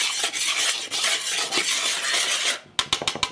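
A whisk scrapes and stirs dry gluten-free biscuit ingredients in a bowl, a busy rustling swish followed by a few sharp taps against the rim.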